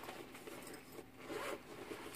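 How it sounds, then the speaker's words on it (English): Zipper of a carrying case for a pair of 6 and 7 inch wooden bongo drums being pulled open, a continuous close, faint rasping slide lasting about two seconds. "Zipper."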